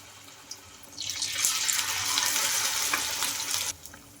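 Batter-dipped puffed rice (murmura) is dropped into hot oil in a kadai, bursting into a loud, dense sizzle after a soft knock, holding steady for a few seconds and then cutting off abruptly.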